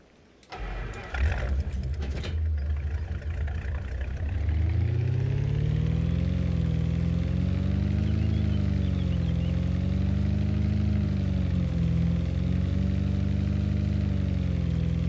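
A pickup truck engine in a farming video game cranks over and catches, then settles into a steady, loud, close idle with a gently wavering rumble, with no voices.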